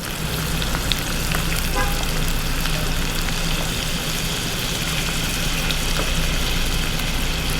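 Pompano fillet frying in a pan with butter and olive oil, a steady broad sizzle running throughout at close range with no talk over it.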